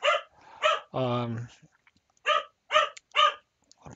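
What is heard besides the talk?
dog barking in the background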